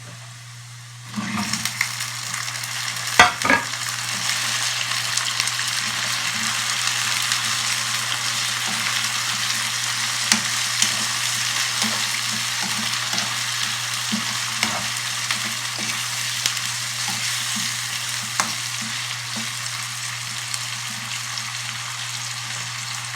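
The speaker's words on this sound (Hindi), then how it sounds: "और चिकन को अच्छी तरह फ्राई कर लेंगे" Chicken frying with lightly browned onions in a karahi sizzles steadily and loudly throughout, with occasional scrapes and clinks of stirring and a constant low hum underneath.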